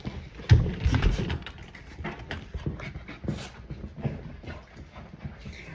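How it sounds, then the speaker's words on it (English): Excited dogs pant close by in quick, uneven bursts, with rustling and shuffling movement throughout at a moderate level. "Look at these dogs."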